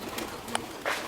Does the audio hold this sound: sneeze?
no